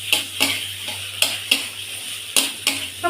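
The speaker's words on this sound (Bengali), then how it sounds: "এবার আমি মাথার ভাজাগুলো দিয়ে দেবো।" Fried hilsa fish heads going into taro greens simmering in a pan, a series of sharp metallic clanks and scrapes of a spatula at uneven intervals over a soft background sizzle, with no talk.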